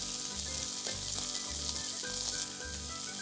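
Shredded onion frying in hot oil with spluttering cumin seeds in a pan, a steady close sizzle with constant crackle that holds at an even level with no pauses.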